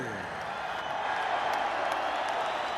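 Sold-out, standing-room-only arena crowd before a Gatti vs Mayweather boxing match, a steady loud roar of cheering and whooping from thousands of fans with scattered applause, continuous throughout.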